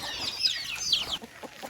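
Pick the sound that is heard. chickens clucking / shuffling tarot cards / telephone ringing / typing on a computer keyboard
chickens clucking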